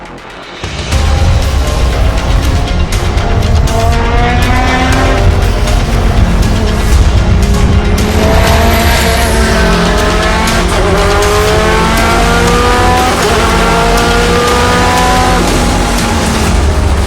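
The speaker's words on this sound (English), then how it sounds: "It's really just pushing the car to the absolute limit on those 1 or 2 laps" A World Time Attack race car driven at maximum attack screams through repeated high revs, rising and falling through the gears at full throttle, loud and close with no talk.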